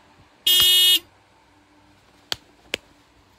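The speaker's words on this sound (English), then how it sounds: "I'm honking this godsaken horn." A car horn gives one short, loud blast in a traffic jam, followed by two sharp clicks in an otherwise quiet cabin.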